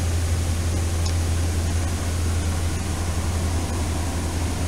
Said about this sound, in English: It doesn't sound like a normal helicopter.